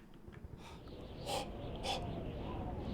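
A voice imitates heavy horror-style breathing, with raspy, wheezing inhales and exhales repeating close to the microphone at a moderate level, two sharper breaths standing out midway.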